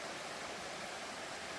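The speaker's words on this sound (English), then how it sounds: "That's a pretty creek." A mountain creek on the Foothills Trail rushes steadily, a dense, even hiss of flowing water with no breaks or voices, fairly faint but continuous.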